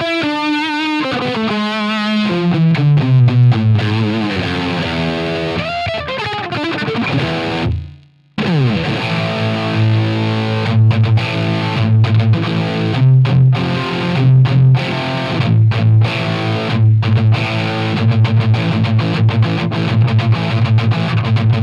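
A Fender electric guitar with its grid pickup selected plays through heavy distortion, loud sustained chords and a descending run giving way to chugging riffs, with a brief dropout near the middle and no talking.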